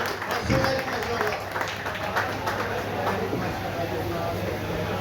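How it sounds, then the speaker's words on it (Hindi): At a prize distribution ceremony for a cup tournament, an audience applauds a player being welcomed onto the stage, with a continuous diffuse wash of clapping under an amplified announcer's voice. "भरपूर तालियों में इनका इस्तकबाल करना है"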